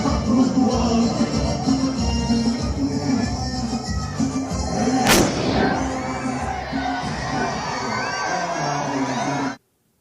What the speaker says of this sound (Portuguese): os walkie-talkies começaram a disparar, ou pelo menos um walkie-talkie, e a explosão foi maior do que a explosão dos pagers no dia anterior